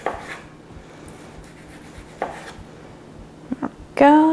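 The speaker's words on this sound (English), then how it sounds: "with the tip of my knife, scoop that skin off of it" A knife trims the skin and pith off a grapefruit being segmented, giving a few scattered, soft scraping and cutting strokes. A sharper, brighter scrape comes near the end.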